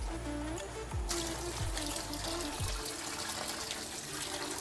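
Water pours and splashes steadily onto fresh concrete, a continuous gushing rush with a few low gurgles near the start.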